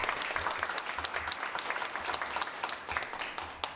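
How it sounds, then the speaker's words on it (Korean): Applause from the audience at a university scholarship award ceremony, a steady wash of many hands clapping that fills the room for several seconds without a break. "박수 부탁드립니다."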